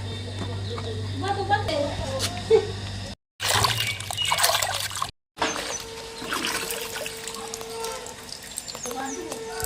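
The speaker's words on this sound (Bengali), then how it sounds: "আমি এবার পুকুর থেকে ভালোভাবে মাছগুলো ধুয়ে নিয়ে আসবো" Cut rohu fish pieces are rinsed by hand in a pond, giving close trickling and splashing water with two short silent breaks. Voices can be heard in the background.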